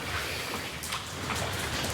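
Rain falls steadily outside, a dense hiss of drops on surfaces that stays even and loud across the whole stretch, with no talking.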